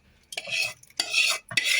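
A spoon or ladle stirs a kulfi milk mixture in a pot, making three close, scraping bursts, each about half a second long, with short pauses between them.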